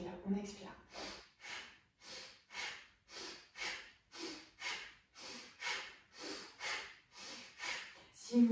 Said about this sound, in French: On inspire par le nez, on expire par le nez.